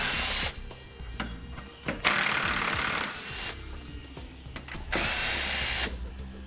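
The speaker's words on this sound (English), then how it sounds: "We're going to drill those out with a 1/4-inch drill." A power drill with a 1/4-inch bit whines in several loud bursts, drilling out plastic rivets holding the fascia on a 2015 Jeep Cherokee, with short pauses and clicks between runs.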